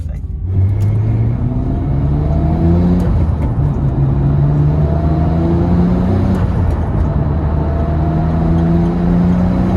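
A Nissan Skyline GT-R R34 M-Spec Nür engine pulls hard from inside the car, a loud sustained drone that climbs in pitch through repeated rising sweeps as it accelerates, with road rumble underneath.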